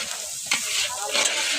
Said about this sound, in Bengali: মাছের ঝালের মশলা তৈরি করছি।